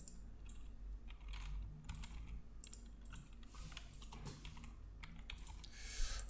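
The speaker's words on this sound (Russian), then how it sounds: "Вбиваете там номер телефона." A phone number being typed on a computer keyboard: rapid, irregular clicking keystrokes, close and quiet, continuing steadily with no one talking.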